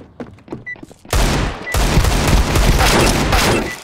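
Dense gunfire from Counter-Strike on the Vertigo map: a quiet second of scattered clicks, then loud, continuous overlapping shots and bursts that keep going to the end.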